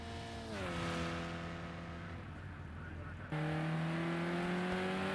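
A GT3 race car is heard from onboard as it leaves Worth and climbs toward Kamsa, with a loud, continuous engine drone. The pitch falls on a downshift, holds steady, then jumps to a higher tone after a gear change and climbs again.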